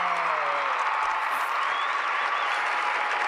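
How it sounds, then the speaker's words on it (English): A steady applause sound effect, dense crowd clapping at an even level throughout, with no voices on top. "Run that clap back."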